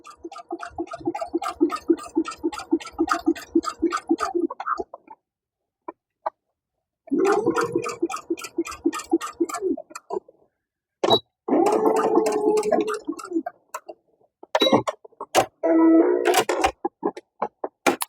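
A sewing machine stitches in rapid mechanical bursts, stopping and starting several times with short pauses between runs, close and fairly loud.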